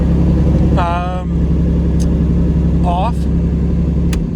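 Lamborghini Diablo SVR race car engine idling with a steady, loud low rumble throughout, while a voice speaks briefly over it.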